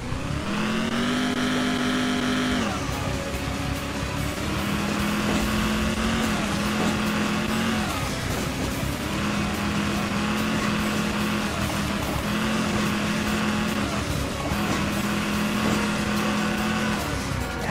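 A sports car engine in the racing game Hill Climb Racing 2, revving loudly and continuously with the pitch repeatedly rising, dropping and surging again as it climbs and shifts, with no talking.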